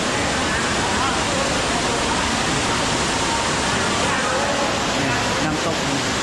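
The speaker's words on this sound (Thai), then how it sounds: "น้ำตก" Loud, continuous roar of a waterfall inside a cave near Vang Vieng, Laos, a dense steady rush of falling water filling the whole stretch with little variation.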